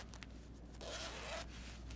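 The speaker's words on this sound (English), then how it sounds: "move both of the zipper pulls to the inside" Zipper pulls slid along the zipper of a handmade crochet bag, giving a quiet, brief scraping rasp that swells for about half a second and then fades into a low background hum.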